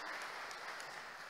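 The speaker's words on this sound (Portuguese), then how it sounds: "Eu peço que seja aplaudido." Steady applause from a crowd at a public hearing, dense clapping at an even level throughout.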